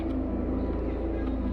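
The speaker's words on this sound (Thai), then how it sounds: "เสียงเฮลิคอปเตอร์เข้ามาตรวจความเรียบร้อยค่ะ" A helicopter on a safety patrol over a forest in southern Sweden thrums steadily very close overhead, its low rotor drone holding constant with no pauses.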